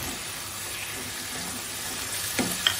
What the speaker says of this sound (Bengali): এই মশলার সঙ্গে মাছটা কষিয়ে দেবো।